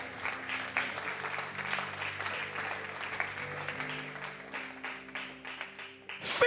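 Church congregation applauding during a sermon by a pastor, a sustained crowd clapping with voices mixed in beneath, swelling louder toward the end.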